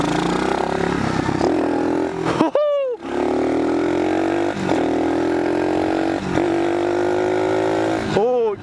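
A pit bike engine droning steadily at around 30 mph while riding, with a high buzzing tone that dips and rises at each gear change or throttle blip, loud and close throughout.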